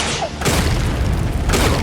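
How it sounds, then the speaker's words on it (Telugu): Cartoon bomb blast set off with a yo-yo, heard as a loud sustained booming rumble lasting almost two seconds, with a fresh burst of hiss about halfway through. "ఈ యోయోని యూజ్ చేసి బాంబ్ బ్లాస్ట్ చేద్దాం"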